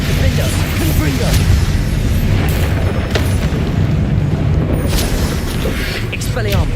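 Loud, continuous spell blasts and booming explosions from combat in Hogwarts Legacy, dense crashing bursts with a speaking voice calling out spell names over them.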